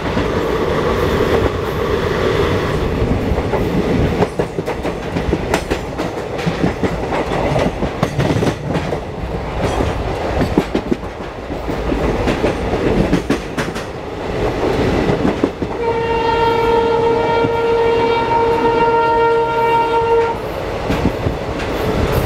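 The Nandigram Express rumbles loudly along the track with continuous clatter of wheels over rails, heard from on board, and a sustained train horn sounds near the end.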